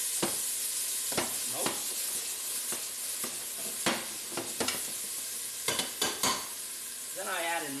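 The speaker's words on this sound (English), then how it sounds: "from the browning of that chicken. Do that really for a couple minutes." Chicken browns in a hot pan with a steady loud sizzle, broken by repeated scraping and stirring knocks of a utensil, and a brief spoken word near the end.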